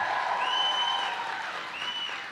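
A large Saturday-morning crowd at a Joe Biden rally in Joliet applauds steadily and loudly throughout, a dense wash of clapping with a few whistles and cheers rising above it.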